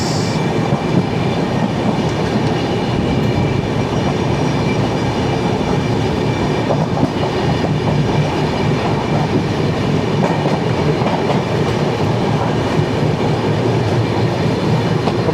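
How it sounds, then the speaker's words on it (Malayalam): Parasuram Express running from Kanyakumari to Mangaluru Central passes close by in Kerala, a steady loud rumble of railcars with rhythmic wheel clatter and faint squeal, continuous for the whole stretch with no voices. "ഇതാ വരുന്നു പരശുറാം 25015. ഇത് കന്യാകുമാരി മംഗളൂരു സെൻട്രൽ പരശുറാം എക്സ്പ്രസ്."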